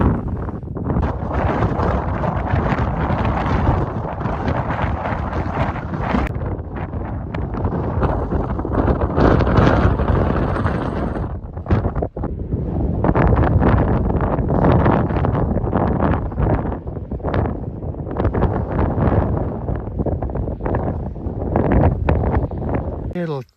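Strong wind blows across an exposed hilltop campsite on the Blorenge in the Brecon Beacons, a loud, continuous buffeting rush close to the microphone that hardly lets up.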